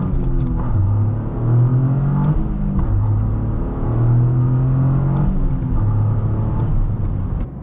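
Toyota GR Corolla hot hatchback with a small 300 hp engine and manual gearbox, driving with a steady loud droning engine note and rising and falling pitch as it pulls through gears, heard from inside the car with no talking.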